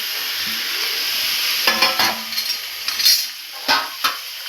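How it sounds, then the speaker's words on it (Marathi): Chicken pieces hit hot oil in a pan for Kolhapuri-style curry, starting with a soft steady sizzle, then spatula clinks and scrapes against the pan in several sharp bursts, close and without speech. "आता हे चिकन जे आहे ना हे टाकून घेणार आहे मी तेलामध्ये"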